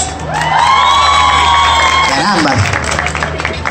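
A live audience at a show cheers, whoops and claps together in a loud, sustained burst, with children's shouts and voices rising above the crowd noise.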